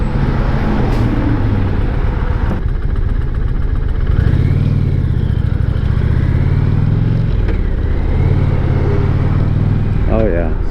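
Indian Challenger motorcycle engine in sport mode, a steady loud rumble that swells as it accelerates, with wind noise throughout and a rider talking over it.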